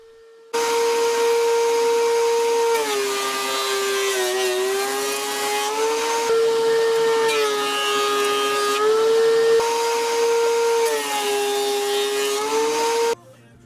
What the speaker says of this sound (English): I'm just milling those up, getting them down to length, and planing those to get them ready to use as the front and back fences for the sled.